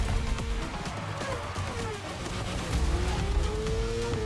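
A Formula 1 car in The Crew Motorfest racing game gives a loud, continuous engine whine that holds steady and then climbs in pitch, with dense in-game noise underneath.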